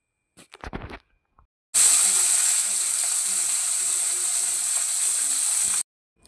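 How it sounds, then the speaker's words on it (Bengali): Pomfret fish rubbed with salt and turmeric frying in a pan: a few brief knocks, then a loud, steady sizzle holding for about four seconds before cutting off. "পমপ্লেট মাছটা নুন হলুদ দিয়ে মাখিয়ে ভেজে নিচ্ছি"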